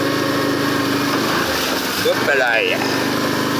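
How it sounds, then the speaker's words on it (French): A quad ATV engine drones steadily with a high, buzzing tone through a ride at a sanctuary while a person speaks briefly over it. "vous êtes en train de faire un beau petit tour de 4 roues là"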